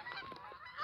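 Pet geese honk in a brief burst of a few overlapping calls, close and fairly loud, with no other sound around them.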